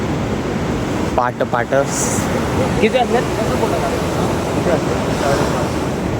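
Ocean surf washing onto a beach in Goa, a steady broad roar of waves with wind buffeting the microphone, while people talk briefly over it.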